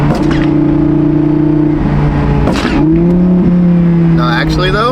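A supercharged Audi R8 accelerates hard, its engine note climbing loud and close through gear shifts with a whining rise, while voices speak over the engine.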